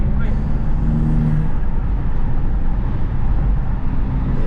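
BMW G87 M2 with a manual gearbox being driven, a steady loud engine drone and road rumble filling the cabin throughout, with a brief higher tone early on.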